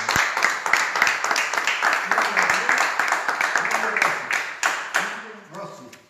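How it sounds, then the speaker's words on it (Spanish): Applause from a Lions Club audience at a cash-payment raffle draw, a dense spread of many hands clapping steadily for several seconds, then thinning out and fading near the end. "felicitaciones y aplausos"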